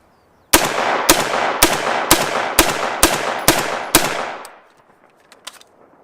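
An unsuppressed rifle fitted with a K-Spec bolt carrier group and an H2 buffer fires a string of rounds. The loud, close shots come about every half second, each with a ringing tail, and fade into faint clatter.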